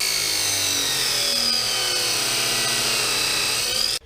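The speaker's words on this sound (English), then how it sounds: "we're cutting out these outriggers and welding them on" Steel outriggers are cut out of a car trailer's frame with a power tool. A loud, steady, high grinding whine holds for about four seconds, then cuts off abruptly.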